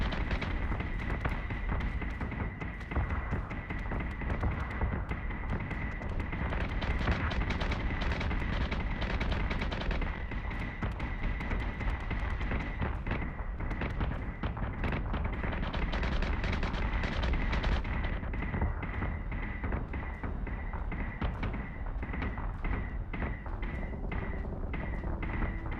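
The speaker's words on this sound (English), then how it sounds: "We're taking sustained fire." Sustained fire from the Defender's guns in a video game rumbles on without a break, a dense, loud, continuous roar of rapid shots and blasts with a steady tone running underneath.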